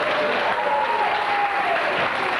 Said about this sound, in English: would you give me a big, loud round of applause for the doo-wopper?